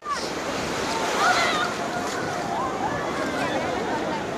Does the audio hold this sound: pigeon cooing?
no